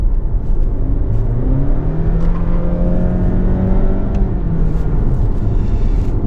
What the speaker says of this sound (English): you do get a lot of engine noise coming into the cabin, as demonstrated now